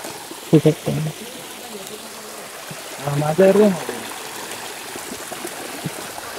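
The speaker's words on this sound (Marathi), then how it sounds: "हा पहिला धबधबा त्याच्यावरती एक आहे" A waterfall pours in a steady, broad rushing hiss close by, with a couple of brief bursts of people talking over the flowing water.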